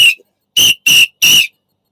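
Three loud, shrill whistle blasts in quick succession after a brief first chirp, close and clear with no voices.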